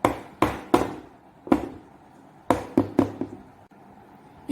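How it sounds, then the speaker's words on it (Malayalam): A filled cake baking tray is rapped against a surface to knock out air bubbles, giving several close, sharp knocks in irregular clusters, some doubled, with short quiet gaps. "അപ്പൊ നമ്മുടെ ഈ എയർ ബബിൾസ് ഒക്കെ ഒന്ന് മാറാൻ വേണ്ടി നമുക്ക് 2 തട്ടി ഒഴിച്ചു കൊടുക്കാം."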